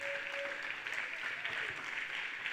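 Church congregation applauding during a French-language worship service, a steady wash of clapping that runs the full length with no break and has a faint tone under it early on.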